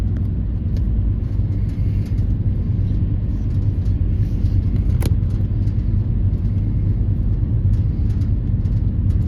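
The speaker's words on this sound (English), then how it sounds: "Ooh, an express bus." A steady, loud low rumble of road traffic with an express bus driving by on a Long Island road, a continuous engine drone with a brief sharp click midway.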